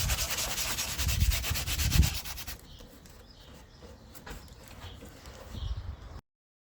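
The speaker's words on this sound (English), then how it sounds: "Now it's time for sanding and preparing the part for the paint" Steady abrasive rubbing as a car interior part from a Mini Cooper S R53 is sanded before painting, loud and continuous for about two seconds, then quieter, sparser scraping strokes with faint background noise.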